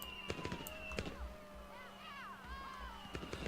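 Fireworks in the video game Pioneers of Pagonia pop in scattered sharp cracks between rising whistles, quiet and somewhat distant over soft game music, with no one speaking.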